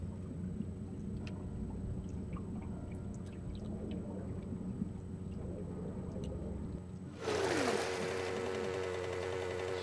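A motorbike engine in the survival game 7 Days to Die, running with a low, steady droning hum that shifts abruptly into a brighter, louder roar near the end.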